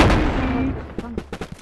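Shotgun blasts in the VR game Animal Company: a quick run of four or five sharp, punchy shots near the end, preceded by busier game noise.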